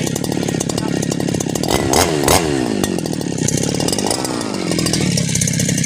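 A small two-stroke brush cutter engine runs loudly and close, its high buzzing drone rising and falling as the throttle is revved.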